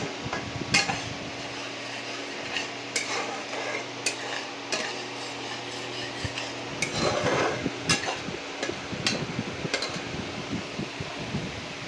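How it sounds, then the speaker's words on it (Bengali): Masala spices fry in a pan after a splash of bowl-rinsing water for khichuri, with a soft steady sizzle and fan-like hum broken by sharp, irregular scrapes and clanks of a stirring spoon. "একটু বাটি ধোয়া জল অল্প করে দিলাম মশলাটা কষানোর জন্য, নাহলে মশলাটা পুড়ে যাবে।"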